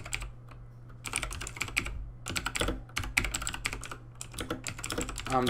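Typing on a computer keyboard in quick bursts of close, crisp key clicks separated by short pauses, with no talking.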